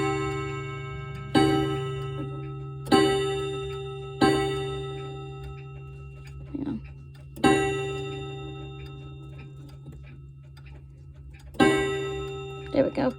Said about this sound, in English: I can demo the chime rods and hammers